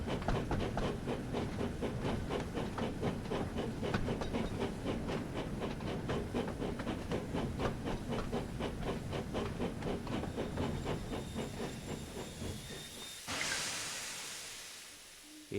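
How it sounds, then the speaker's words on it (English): A steam locomotive in the Thomas & Friends Wonders of Sodor game chuffs in a fast, steady rhythm, then a sharp hiss of released steam rises near the end. "The funny thing about the train sounds in this game, it sounds like me when I run."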